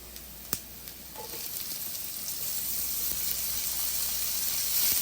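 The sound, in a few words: sausage frying in pan with cooked onions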